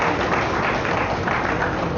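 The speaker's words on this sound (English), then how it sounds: "a round of applause to Maestro Navika Guruge and his team" A steady wash of audience applause following a musical performance by a maestro and his ensemble at a live-streamed event, continuous and even throughout, with no voices standing out.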